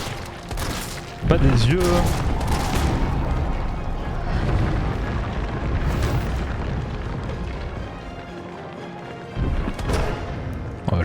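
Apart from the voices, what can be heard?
gunshots fired in the video game Resident Evil 3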